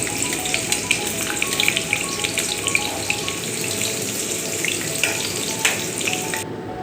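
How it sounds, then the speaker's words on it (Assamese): Onions frying in hot oil in a wok for a chicken curry, a steady, close, crackling sizzle with no voices. "তেল গৰম হোৱাত পিঁয়াজ দি দিলোঁ"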